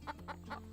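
Lavender Orpington chickens cluck softly in a quick run of three short, evenly spaced clucks close by, over a low steady hum.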